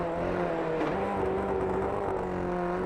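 Several small Formula Ford race cars circling a track at a Friday night race meeting, a steady, continuous engine drone with overlapping tones that shift slightly as the pack moves, mid-distance and fairly loud.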